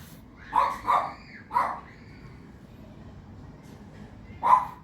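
A dog barks four times, three quick barks close together, then a pause and one more bark, fairly near against a quiet background.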